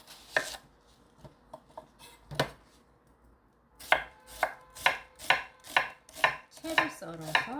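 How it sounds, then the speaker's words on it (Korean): A knife chops onion and green onion on a cutting board while kimchi seasoning is made, a few sparse taps first, then after a pause a steady rhythmic run of close, crisp chops. "이제 여기다가 파하고 양파 좀 썰어 넣을게요"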